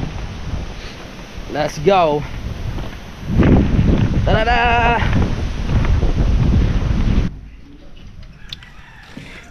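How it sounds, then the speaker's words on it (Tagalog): Strong wind buffets the microphone with a rough, low rumble through most of the clip. People talk and call out over it before it drops away near the end. "grabe lakas ng hangin"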